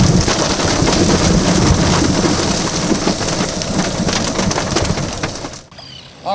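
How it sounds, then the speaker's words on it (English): Heavy rain pours down steadily and loudly, a dense close hiss with low rumbling underneath, easing off near the end, where a few faint bird calls come through. "the rain came down pretty heavy, as you can hear"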